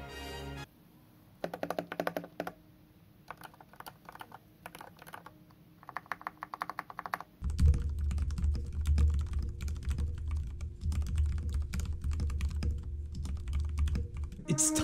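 Typing on a mechanical gaming keyboard in a sound test, bursts of crisp key clicks giving way to fast continuous typing over a heavier background, close and clear with no talking.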